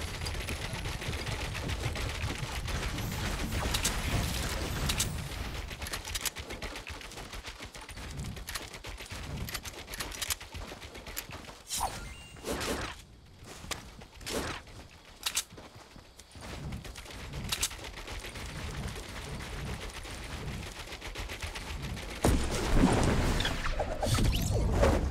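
Gunfire crackles in a Fortnite Battle Royale match as sharp, rapid shots in bursts and scattered single cracks, fairly faint and distant, with quieter gaps before the firing grows denser near the end.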